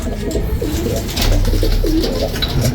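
Racing pigeons of rare off-colours coo in a breeding loft, their low rolling calls repeating close and clear over a constant background hum.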